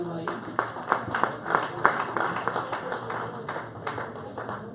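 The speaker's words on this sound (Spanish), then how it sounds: "Démosle un fuerte aplauso a Peter porque nos lo dice" An audience at a church service applauds with loose, irregular claps that keep going for several seconds while voices talk over them.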